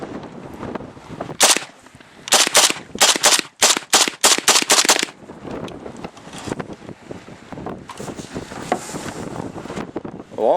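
Ruger Mini-30 rifle fired at an outdoor range on a windy day: about eight loud, sharp shots in a quick irregular string, then wind rumble buffeting the microphone.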